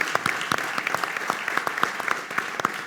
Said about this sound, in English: please give a big round of applause to our panel members